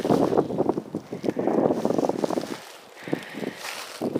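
Gusty wind buffets the microphone and rushes through the open basin of Birch Creek in the Eastern Sierras, a loud continuous roar that eases briefly before picking up again, with no speech.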